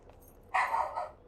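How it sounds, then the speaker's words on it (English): A dog lets out a single short bark, loud and close, followed by a brief trailing yip in an otherwise quiet indoor room. "Sorry, that's my dog, not her."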